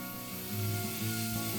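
A wooden board gets a light sanding during a woodworking build for an indoor microgreens garden: a short, steady, close rasping rub that swells louder partway through, with no talking.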